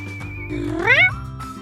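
A cartoon cat lets out a single close meow that rises and bends in pitch, then fades out within about a second.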